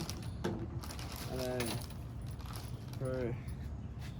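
Metal bolts for a bedliner being handled on a Chevrolet Colorado, light jangling and clinking of small hardware in short bursts, close up, with a voice speaking intermittently over the clatter.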